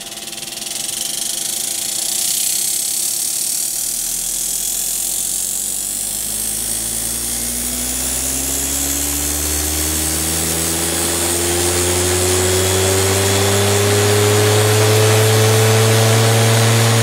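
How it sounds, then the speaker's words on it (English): An old washing machine motor spins up on boosted voltage from a custom battery pack, its steady electric whine climbing gradually in pitch and growing slightly louder as the speed rises, with no voices. "it lets me run some interesting loads like this old washing machine motor"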